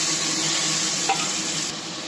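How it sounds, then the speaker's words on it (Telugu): Mushrooms sizzle steadily in hot oil in a pan with a tempering of onion and curry leaves, a close, even frying hiss with one brief stir partway through and no talking. "పోపు వేగాక మష్రూమ్ వేయాలి."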